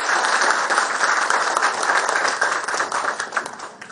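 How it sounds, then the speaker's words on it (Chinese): An audience at a Guangzhou mantis-style kung fu association's centenary banquet applauds to welcome its guests: dense, steady clapping from many hands that holds strong throughout and only begins to thin at the end, with no voices over it. "请大家以掌声欢迎各自的到来"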